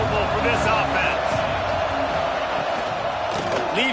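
Stadium crowd noise in College Football 26, a dense steady roar with whoops, heard under a commentator talking.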